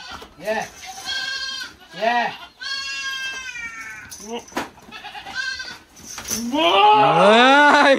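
Goats bleat repeatedly on a farm, several loud, wavering cries spread across the stretch, the last one long and sustained, with people talking in between.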